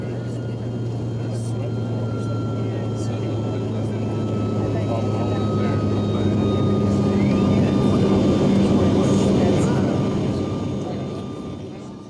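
A fixed-wing airplane drones steadily from inside the cabin during a late-afternoon flight over the Petén jungle toward Flores, Guatemala, swelling slightly midway, with faint voices under the engine hum.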